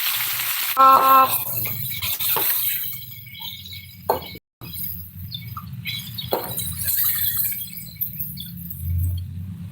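Oil crackles and sizzles steadily in a pan frying small insects, with occasional sharp clinks of utensils against the cookware, close and continuous.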